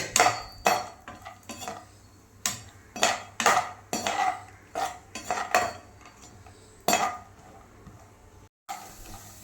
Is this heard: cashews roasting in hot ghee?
yes